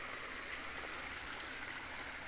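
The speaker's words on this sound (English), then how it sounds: "just listen to the water" A steady, even rush of flowing stream water fills the scene without a break, with no voices over it.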